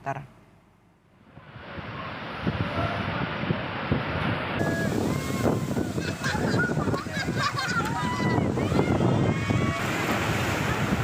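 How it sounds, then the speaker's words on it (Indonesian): High sea waves crash and surge against the barrier of Wameo traditional market in Bau-bau, loud and continuous with wind buffeting the microphone, while honking calls that sound like geese sit on top of the roar. "Inilah ada video saat gelombang tinggi menerjang pembatas pasar Wameo sehingga puluhan tempat pedagang dan jalanan di pasar digenangi air laut."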